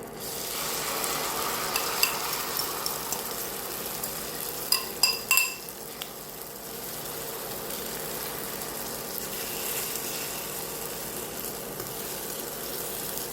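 Long beans and egg stir-frying in a hot pan give off a steady sizzle, with a brief cluster of metal utensil clinks against the pan partway through and no voices.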